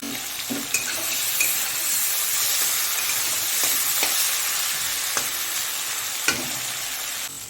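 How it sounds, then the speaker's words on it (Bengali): Shrimp fry in hot oil in a pan with a loud, steady sizzle and hiss, punctuated by a few sharp stirring scrapes close up, with no talking. "চিংড়ি মাছগুলোকে 2 মিনিটের মতো ভালো করে ভেজে নেব"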